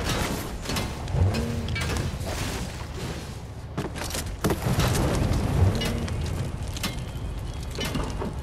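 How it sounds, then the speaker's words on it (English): Hail pelts a car in the Fortnite video game, a dense continuous patter of impacts with scattered louder thuds and bangs, loud and close throughout. "It's hailing the car though."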